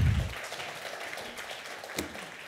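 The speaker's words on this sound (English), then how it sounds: "Can everyone give him a soft round of applause for Tony?" An audience in a church gathering gives soft applause, a brief patter of clapping that starts with a thump and fades to a light, quiet rustle of hands.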